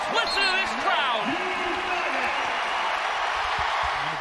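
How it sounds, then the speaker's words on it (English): A basketball arena crowd at The Basketball Tournament roars and cheers steadily and loudly throughout, with a commentator's voice talking over the din. "Listen to this crowd."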